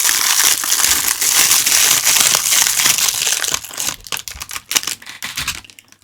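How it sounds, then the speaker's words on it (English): Loud, continuous crinkling of mail packaging being handled up close, dense and steady at first, then breaking into sharper, separate crackles and rustles toward the end. "Sorry about the crinkling."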